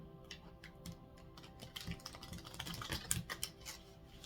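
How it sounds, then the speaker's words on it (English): A deck of oracle cards being shuffled during a card reading: soft, quiet riffling and tapping in irregular bursts, close by with no talking. "So I'm going to shuffle one more time here."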